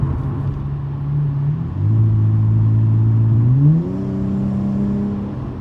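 A 2018 Dodge Challenger SXT with a Magnaflow exhaust and an 18-inch 4x9 oval offset muffler drones loudly and steadily, then steps up in pitch as the engine revs through a downshift.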